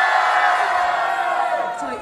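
An audience at a K-pop girl group FAVEGIRLS opening greeting for 2019 lets out a loud, sustained shout and cheer, a dense crowd roar with high-pitched screams that holds for two seconds and tapers slightly at the end.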